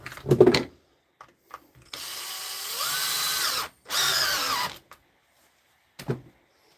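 A power drill driving screws during a fix-or-fail repair, two sustained whirring runs of about two and one seconds each, with short trigger blips and handling knocks before and after.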